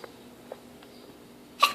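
A child gives a single short, sharp sneeze close by, at the end of a quiet, faintly hissing stretch with a few soft breaths before it.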